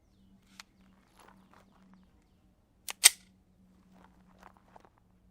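Shots from a Beretta 92 pistol firing .40 S&W hollow points over a chronograph at an outdoor range: two sharp close cracks in quick succession, surrounded by faint clicks and quiet handling noise.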